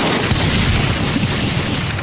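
Sustained gunfire in the Project Zomboid video game, a dense, loud, continuous burst of rapid shots with no talk over it.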